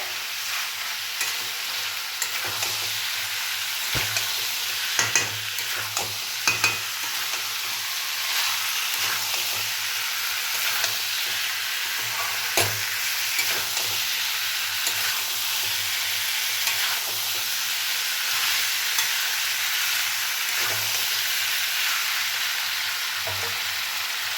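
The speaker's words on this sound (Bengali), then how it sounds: "কাবলি ছোলাগুলো ওগুলো সব এর ভিতরে দিয়ে দেব খুব ভালোভাবে কিন্তু কষিয়ে নিতে হবে" Boiled kabuli chickpeas being stir-fried in a pan, a steady close sizzle punctuated by scraping and knocking of a spatula at irregular intervals, with no talking.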